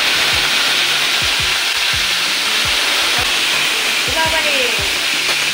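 Live crab frying in hot oil in a home kitchen, a loud continuous sizzle and hiss with steady bubbling pops, a person talking briefly over it.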